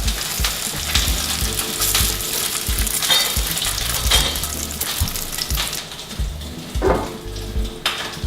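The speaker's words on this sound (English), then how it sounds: "I can hear my crab cake sizzling away over here." A crab cake sizzles and crackles steadily in a hot pan, with bursts of spattering and a few clinks of utensils, close and fairly loud.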